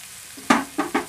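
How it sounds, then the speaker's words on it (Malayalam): Chopped onion, garlic and ginger hitting hot oil in a pan: three quick sizzling bursts after a quiet start, close and moderately loud. "ഇനി ഇതിലേക്ക് ചെറുതായി ചോപ്പ് ചെയ്തിട്ടുള്ള സവോള ഇട്ട് കൊടുക്കാം."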